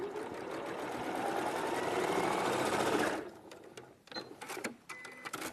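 A sewing machine stitches fabric in a steady close run of about three seconds, then stops, leaving soft handling clicks and rustles.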